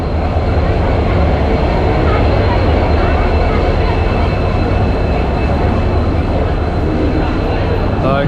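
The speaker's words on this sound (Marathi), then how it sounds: "आमची ट्रेनसुद्धा आली आहे." A passenger train arrives at a station on a line heading to Rameswaram, making a loud, steady, unbroken rumble that fills the whole stretch, with voices mixed into the noise.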